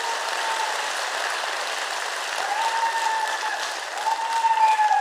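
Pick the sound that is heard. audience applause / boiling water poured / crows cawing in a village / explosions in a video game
audience applause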